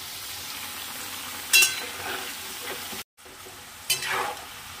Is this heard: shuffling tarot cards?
no